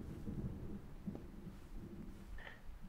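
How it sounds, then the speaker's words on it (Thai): Rain patters steadily in a video game while low thunder rumbles faintly underneath, forming a quiet, even storm ambience with a brief higher tone near the end. "เฮียเนี่ยหมอกหายปุ๊บฝนตกอีก"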